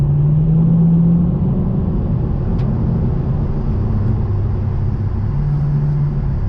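A Lexus RC F driving on the Susten Pass in Switzerland, a steady loud low rumble of engine and road noise from inside the car, with the engine note rising slightly at moments.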